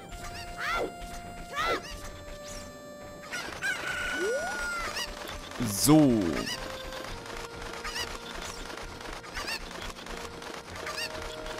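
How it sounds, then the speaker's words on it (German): A chicken in the video game The Legend of Zelda: Ocarina of Time clucks and squawks in repeated game-sound calls, with chimes and effects from the game, and someone says a word at one point. "aber vorher nehme ich mir noch das Huhn hier."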